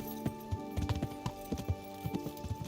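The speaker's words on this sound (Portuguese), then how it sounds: "Tô tentando andar de cavalo porque aí eu sujo menos a roupa" Horse hooves clip-clop in a steady trotting rhythm while riding in the medieval game Kingdom Come: Deliverance, close and moderately loud over faint game ambience.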